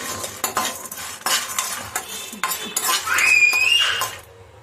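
Flattened rice (atukulu) roasting over low heat in a pan, with repeated clanks and scrapes of a metal spoon against the pan over a light sizzle, close and busy, and a brief high tone near the end.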